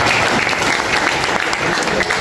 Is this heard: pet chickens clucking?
no